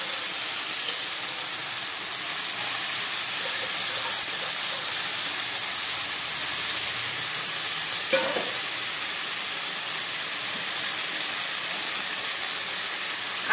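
Fenugreek greens fry in a pan with a steady, close sizzle and hiss throughout, plus a brief stirring scrape near the middle; no one speaks.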